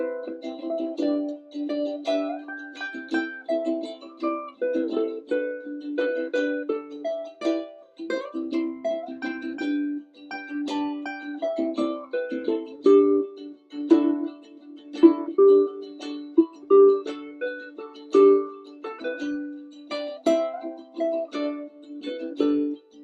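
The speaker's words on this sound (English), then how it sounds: "you can even solo a harmonica on this" Quick, bright reedy notes run on and on in a lively unaccompanied harmonica solo, with steady bends and chords and no voices.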